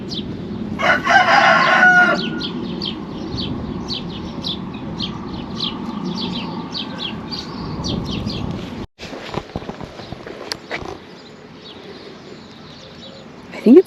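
A rooster crows loudly nearby along the coastal Portuguese Way of the Camino de Santiago, followed by quieter clucks and bird chirps, with a person talking softly.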